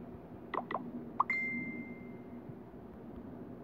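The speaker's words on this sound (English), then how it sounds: "Excuse these messages. My phone is always blowing up." Phone message notifications chime as a few quick plinking tones followed by a sustained electronic beep, clear above a low background fan hum.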